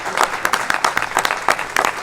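An audience at a jazz talk during a festival in Gualeguaychú claps to welcome a guest speaker, a moderately sized crowd producing brisk, uneven clapping with distinct individual hand strikes, close and loud throughout.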